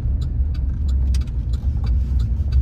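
A truck rolls slowly off the road through tall grass into a field opening, its engine a steady low rumble, with scattered clicks and brushing sounds from vegetation.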